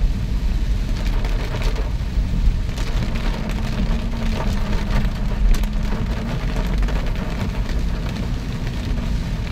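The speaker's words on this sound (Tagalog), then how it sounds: "hanggang ngayon hindi pa rin uminto yung ulan" Heavy rain falls steadily from a thick sky, a dense, continuous wash of drops on surfaces with a low rumble underneath, loud and unbroken throughout with no voices.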